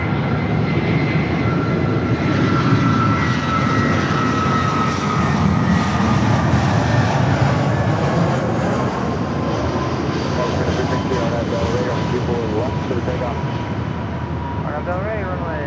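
A jet airliner takes off from a runway at Los Angeles International Airport. Loud, continuous engine roar with a high whine runs through the whole stretch and eases very slightly toward the end.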